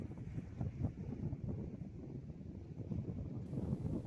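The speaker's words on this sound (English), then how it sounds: "The wind is just doing my head in." Wind buffets the microphone on a windy coastal hike near a lighthouse, a constant low roar and rumble that fills the whole clip with no voices.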